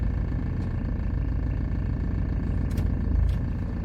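A used car fitted with a diesel particulate filter runs rough with the transmission engaged, a steady, heavy, vibrating engine drone close up and alone, never letting up.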